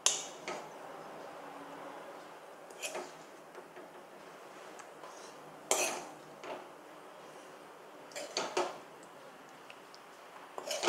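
Paneer is served from a pan onto a plate in a home kitchen, with occasional metal and ceramic clinks and scrapes of dishes and utensils over a quiet background hum.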